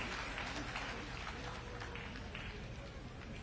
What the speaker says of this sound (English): A louder hand clap for that very wonderful offer.